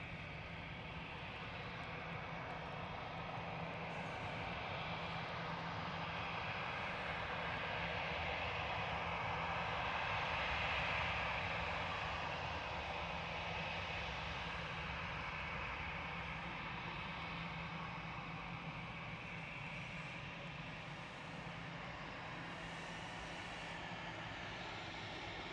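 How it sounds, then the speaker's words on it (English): An Emirates Boeing 777-300ER arrives at Manchester Airport, its engines a steady, loud roar that holds for the whole stretch and swells slightly near the middle before easing off. "Emirates Flight 21 from Dubai, it's 777-300ER A6EPT."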